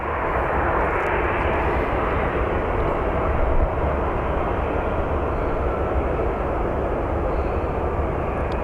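A Southwest airliner departing Sky Harbor Airport in Phoenix roars with a steady, loud jet engine rush that holds evenly throughout, no voices over it.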